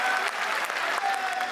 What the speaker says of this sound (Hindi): दोस्तों तालियां बजाएंगे